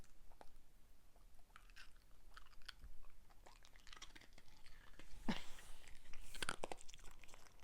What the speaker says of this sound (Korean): 멍멍이가 얼음 씹는 소리 들으셨나요?